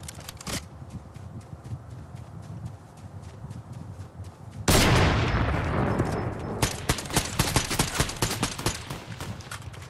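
Fortnite gunfire rings out near and loud: a dense run of sharp shots in the first half, then a louder burst of fire, followed by rapid repeated cracks.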